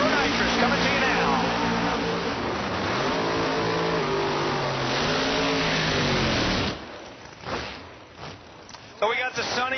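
Pro Nitrous drag racing cars roar down the strip at Rockingham Dragway, a loud sustained engine howl with rising and falling pitch that cuts off sharply, followed by quieter crowd and track noise, while a commentator talks over it.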